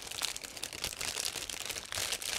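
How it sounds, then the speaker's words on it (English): A plastic bag being opened at a workbench while unpacking small model kit parts, giving a steady close crinkling and rustling with brief louder crunches, no talking. "you can hear I'm trying to open another plastic bag"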